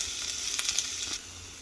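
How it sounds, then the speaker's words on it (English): Onions frying in a pan for homemade hash, a steady close hissing sizzle with a few soft stirring scrapes, then settling slightly quieter. "I'm going to stir that around a little bit and let those fry."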